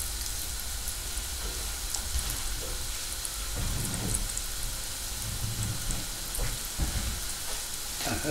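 Panko-breaded cordon bleu frying in hot oil, a dense, continuous crackling sizzle close by with scattered pops and a few dull knocks, no talking.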